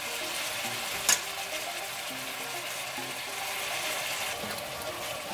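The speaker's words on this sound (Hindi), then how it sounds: "गोश्त फ्राई हो रहा है, साथ में लहसुन अदरक की पेस्ट डाल रही हूँ।" Mutton sizzles and fries steadily in a pan with garlic-ginger paste added, a constant close hiss with a brief clatter near the start.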